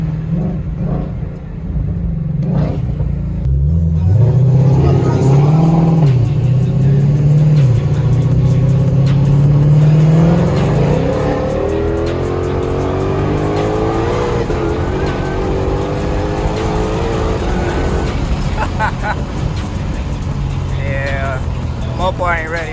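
Ford Shelby GT500 with a supercharger pulley kit launches hard, engine revving and climbing through the gears while tires squeal, loud and close, with voices talking underneath.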